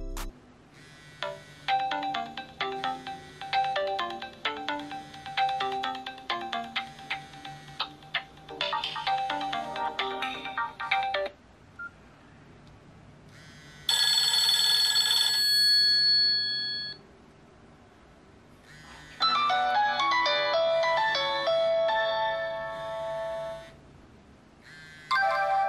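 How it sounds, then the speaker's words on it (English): Several ringtones from a Nokia E50 mobile phone play in turn, bright melodic tones in separate bursts with short pauses between, loud and close with no talking. "We got some nice ringtones, check it out."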